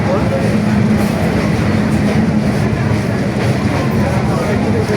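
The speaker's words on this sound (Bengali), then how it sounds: "এই যে ট্রেন" A train runs through Dhaka's Airport railway station with a continuous heavy rumble and rolling wheel noise, close and loud, with faint crowd voices blended underneath.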